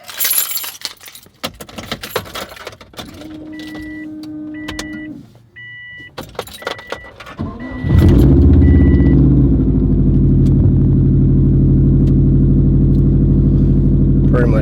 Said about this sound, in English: I hope this thing start.